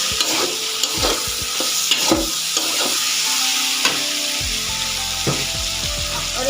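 A spoon scrapes and clinks while red chili masala is stirred into saag frying in a pan, loud sizzling running throughout with a series of sharp metallic knocks.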